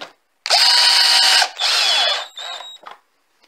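A cordless power screwdriver drives a screw in three loud, close bursts of whirring motor, the first and longest lasting about a second, each ending abruptly.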